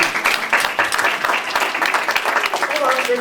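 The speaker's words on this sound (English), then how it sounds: "Hold on, give me applause." Audience applause at a magic show, a dense, loud burst of many hands clapping that fills the room continuously, with a voice talking over it.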